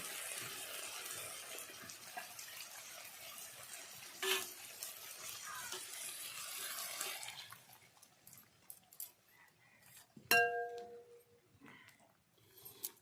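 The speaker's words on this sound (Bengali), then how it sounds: "তো এই পর্যায়ে আমি জল দিয়ে দেব।" Water pours into a pan of fried lentils (kalai) while making coconut, lentil and sesame puli pitha, a broad steady rush for several seconds that fades, followed by scattered faint clinks and splashes.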